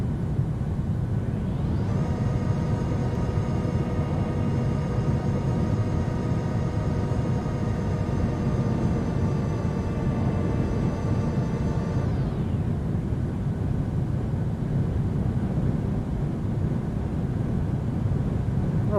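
Boeing 737-700 airliner climbing out after takeoff in Microsoft Flight Simulator, a steady loud engine roar with a whining tonal layer that rises in, holds, and fades away.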